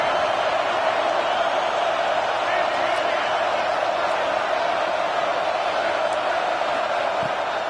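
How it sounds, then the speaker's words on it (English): Football stadium crowd roaring on a third down, a dense, sustained wash of cheering and noise from many spectators that stays loud and even throughout. "Big 3rd down as the crowd gets behind this defense."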